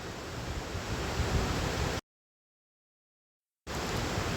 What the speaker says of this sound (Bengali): এই ফোড়নটাকে এখন আমি দিয়ে দিলাম ওই খিচুড়ির মধ্যে।